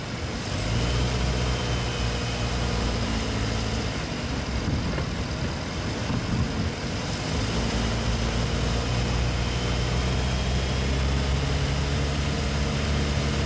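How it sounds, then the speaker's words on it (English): A car engine heard from a microphone mounted in the engine bay, with a steady loud running drone and a thin belt whine on top, continuous throughout. "You definitely hear a bit more whine from the belts when you've got this microphone in the engine."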